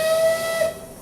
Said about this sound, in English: That was a whistle blowing.